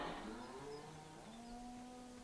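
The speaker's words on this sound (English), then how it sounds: "So this looks like a cow yard. This does. Especially from the sounds of it." Cows moo in a cow yard in Farming Simulator 17, several faint, drawn-out calls overlapping against a soft steady ambient backdrop, with no talking.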